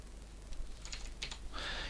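A short run of quiet computer keyboard typing, a few soft key clicks and a brief flurry of taps near the end while CSS inline styles are entered, with no talking.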